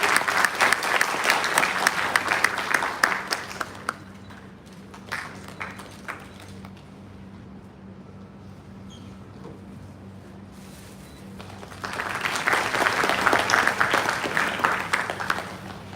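An audience at a felicitation ceremony applauds loudly for several seconds, fades into a quiet lull with a low hum, then swells into a second strong round of clapping.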